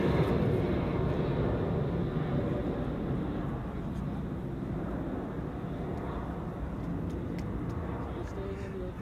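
A KLM Embraer 190 jet climbs away from Schiphol's runway 24, its broad engine roar loud at first and slowly fading as it recedes into the distance.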